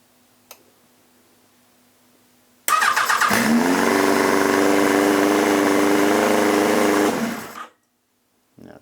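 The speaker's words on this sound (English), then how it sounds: "figure out why it is trying to rev its nuts off" A Yamaha XJR1300 motorcycle engine fires up close and loud, then holds a high, buzzy idle that races instead of settling. It runs steadily for about five seconds before cutting off abruptly into quiet.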